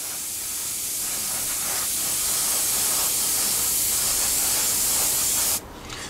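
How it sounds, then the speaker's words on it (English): An airbrush sprays paint onto the propeller of a 1/48 scale Tamiya Supermarine Spitfire Mk.I model, producing a steady, close hiss of compressed air that runs evenly for several seconds and then cuts off abruptly near the end. "it probably wouldn't be such a bad idea to spray your propeller separately on, say, a some tweezers, just to make sure you get it completely all over."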